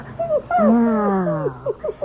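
A dog whimpers and whines close up in a series of high, wavering cries, one long drawn-out whine followed by shorter rising yelps.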